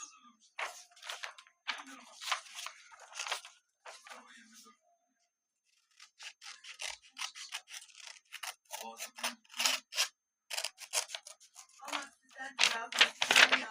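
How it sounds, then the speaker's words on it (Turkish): Scissors snip around the edges of paper in quick, uneven bursts of crisp cuts and rustles, close by, with a pause midway and a voice talking at times. "Şimdi böyle kağıtlarımız varsa şu kenarlarını keseceğiz."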